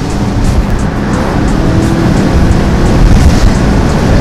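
A 2019 Subaru Ascent with a turbo engine accelerates hard, its engine and road roar filling the cabin loudly and steadily with a rising, continuous drone.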